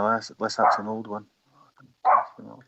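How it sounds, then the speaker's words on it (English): A dog barks in the background during a council audit and scrutiny committee meeting, with short barks mixed in with someone talking. "sorry about the dog"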